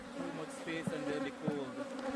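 Honey bees hum steadily at a hive, a dense continuous buzz close to the listener with slight rises and dips in pitch.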